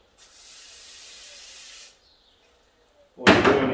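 A short hissing spray of WD-40 from an aerosol can onto a shop towel lasts under two seconds, then a brief quieter hiss, followed by a sudden louder rustling sound.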